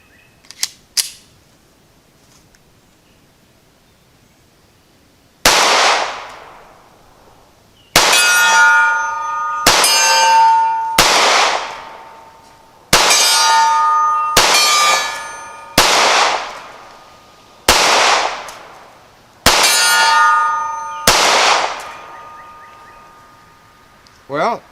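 Ruger Security9 pistol with a shorter barrel fired at a steel target from 35 yards, eight loud shots, each followed by a ringing metallic clang, spaced a second or two apart with longer gaps between some.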